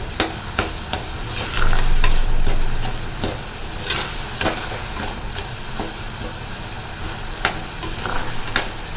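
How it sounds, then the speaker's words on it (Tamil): Tomatoes sauté in a clay pot for a Tamil fish curry, giving a steady sizzling fry with repeated scraping stir strokes and a louder burst of sizzle partway through, close up with no talk. "தக்காளி நல்லா வதங்கிருச்சு இந்த மாதிரி நல்லா வதங்கிடணும்"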